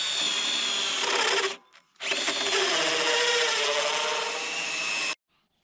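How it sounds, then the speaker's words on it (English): A power drill bores through a wooden rafter in two loud, sustained runs separated by a brief pause, the motor whining steadily with the bit grinding into the wood, close and without speech. "Now I drilled from one side."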